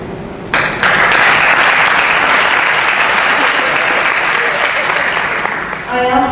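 Conference audience breaks into sustained, loud applause for the panellists at an international ageing forum in Istanbul, a dense wash of clapping starting after a brief pause and fading near the end as a voice returns.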